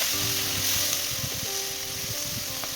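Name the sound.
chilli baby corn with spices frying on high flame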